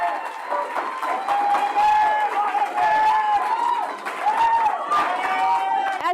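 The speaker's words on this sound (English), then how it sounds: "if we're cheering in between every single speaker" An audience at a Cabrillo Unified School District board meeting cheers and claps steadily for about six seconds, a dense crowd roar with voices mixed through it.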